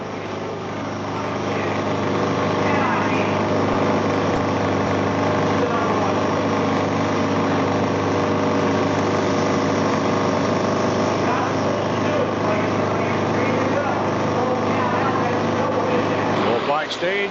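Harley-Davidson drag bikes at a 1995 AHDRA all-Harley drag race at Kil Kare Dragway idle loudly at the staging line, a steady low rumbling drone that holds the whole time, with an announcer talking over it.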